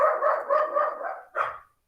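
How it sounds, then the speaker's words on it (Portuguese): Dogs barking in a quick run of several yaps, fairly close and moderately loud, followed after a short pause by one more bark, with no talking over them. "Gente, os cachorros."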